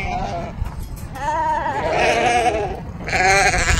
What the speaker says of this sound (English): There's like 20 goats over there.